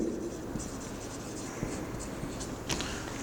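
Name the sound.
writing on a board while explaining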